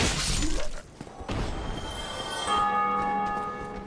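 Bells in the video game Dark Souls toll after a gargoyle fight, following a sharp crash. The clear ringing tones sustain and overlap near the end over a dense game-sound backdrop, with no talking.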